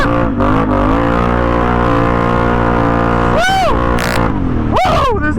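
A four-wheeler ATV engine revs hard and continuously while cornering on the way to a gas station, a loud close harmonic drone with sharp pitch swoops as the throttle changes, briefly broken by wind buffeting.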